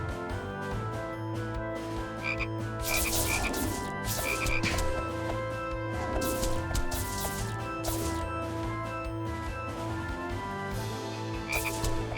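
Frogs croak repeatedly in a cave level of the video game Touhou Koukishin, a steady chorus of layered, rhythmic croaks over a constant looping game soundtrack, with no talking.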